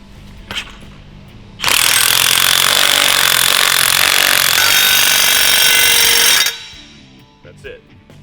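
A Hilti power tool drives a Kwik-X Dual concrete anchor in one loud, sustained burst of about five seconds, harsh and rattling, with quieter handling clicks before and after.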